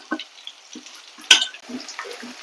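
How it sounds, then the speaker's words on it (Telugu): Bitter gourd pieces fry in a large wok-style pan and are stirred, with soft intermittent sizzling, scattered scrapes and one sharp metallic clink of a utensil against the pan, close and moderate in level. "వేడైంది కదా, ఈ కాకరకాయ ముక్కలు దాంట్లో వేసేసుకున్నాం."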